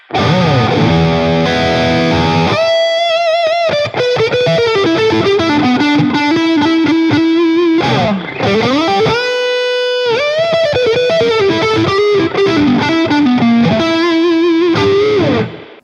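An electric guitar with single-coil pickups plays a melodic lead through an amp simulation with an overdrive pedal in front, drive low and level up, giving a thick, overdriven tone, sustained notes and bends ringing out loud and continuous.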